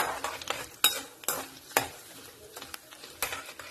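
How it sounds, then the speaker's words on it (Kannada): Cumin seeds frying in oil for a ripe banana upma: a soft sizzle broken by a series of quick spatula scrapes and light metallic taps against the pan, close and fairly quiet, no talking. "1 ಟೀ ಸ್ಪೂನ್ ದಾತ್ ಜೀರಿಗೆ ಇದನ್ನು ಲಾಯ್ಕ್ ಫ್ರೈ ಮಾಡ್ತಿದ್ದು"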